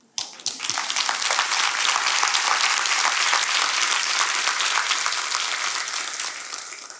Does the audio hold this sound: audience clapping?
yes